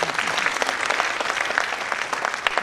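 Audience applause at a Hindi satirical poetry recital, dense steady clapping from a large crowd filling the whole stretch without a pause, no voice over it.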